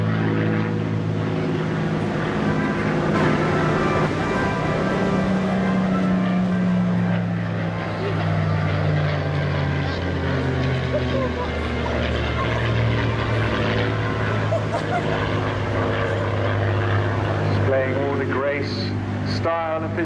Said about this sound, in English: great pleasure to have him and this wonderful Spitfire here today